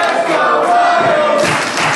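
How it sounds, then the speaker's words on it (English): A wrestling audience roars and chants for Ryan Ryzz during a GMW match, a loud continuous crowd swell with a thud partway through and a brief dip before rising again. "Crowd getting behind Ryan Ryzz right now."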